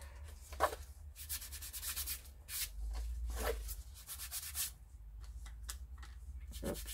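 Soft, dry scrubbing strokes as paint is rubbed onto a mixed media canvas, short bursts and pauses in an irregular rhythm, close and quiet over a low background hum.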